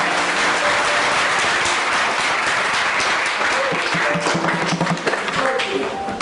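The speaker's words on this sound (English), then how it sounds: "Clap for that." An audience claps loudly and continuously, a dense sustained wash of many hands lasting several seconds, with brief voices and a few tones rising above it.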